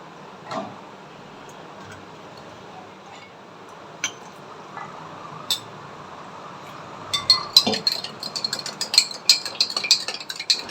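Aam panna mango drink shaken in a glass container, sparse clinks at first, then a burst of quick rattling taps and clinks toward the end, fairly close and moderately loud.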